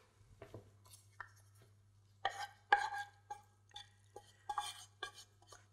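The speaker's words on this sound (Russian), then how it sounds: "Дальше добавляем сюда грибы." Mushrooms go into a pan of baked, lightly pre-boiled cabbage, with scattered clinks and soft scraping knocks of a utensil against the pan, quiet and intermittent over a low steady hum.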